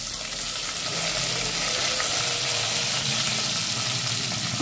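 Onion, tomato and curry leaves sauté in a pan for drumstick sambar, a steady close hiss and sizzle of frying with faint stirring, no talk.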